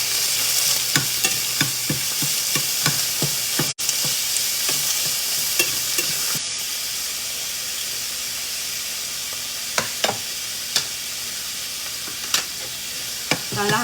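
Half a kilo of ground beef for giniling fries in a pan, a loud steady sizzle and hiss broken by sharp scraping stirs at irregular intervals.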